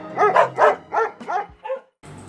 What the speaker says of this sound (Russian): На меня напали собаки.